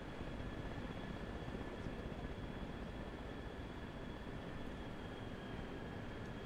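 A video game helicopter carries infantry in its rear cabin, a faint, steady rotor and engine drone with a constant hum and no speech over it.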